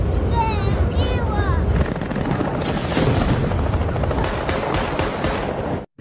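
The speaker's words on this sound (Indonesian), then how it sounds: "Mereka mengirimkan beberapa pasukan dengan helikopter" A film helicopter's rotor thrums loudly and continuously, with bursts of gunfire and booms mixed in; a voice cuts through briefly near the start.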